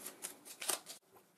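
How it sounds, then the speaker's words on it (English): A board game's automa card deck being shuffled by hand on a table: a quick run of riffling, flicking card sounds lasting about a second, close and fairly quiet, followed by a softer brief rustle. "we need to shuffle back up his automa deck."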